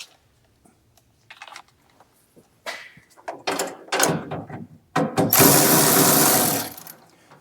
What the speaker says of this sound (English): we can get our electric ratchet back out and get those tightened up.